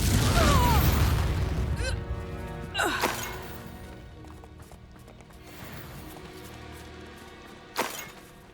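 Spell blasts from Confringo and Reducto in Hogwarts Legacy, a handful of sharp separate bursts and impacts spaced a few seconds apart, the first loudest among noisy rumble, later ones fainter over a quiet game backdrop.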